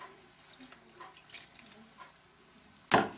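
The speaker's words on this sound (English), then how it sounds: "our 2/3 cup of water," Water poured into a bowl of flour and sugar, a short splashing gush near the end after some faint trickles and handling noises, with no talk.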